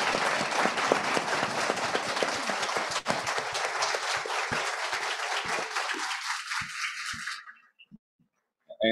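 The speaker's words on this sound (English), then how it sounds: "give a very warm round of applause for this" An audience at a press conference for The Last of Us applauds warmly, dense clapping sustained for several seconds before fading out, with a few scattered claps trailing at the end.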